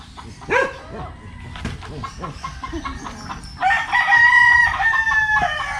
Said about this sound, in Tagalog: Ganda ng mga manok. Ito guys oh.